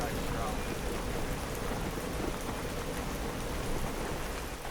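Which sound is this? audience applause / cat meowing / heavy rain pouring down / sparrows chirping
heavy rain pouring down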